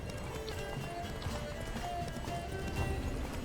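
Roach the horse galloping in The Witcher 3, a continuous rapid drumming of hoofbeats at moderate volume with game ambience behind it.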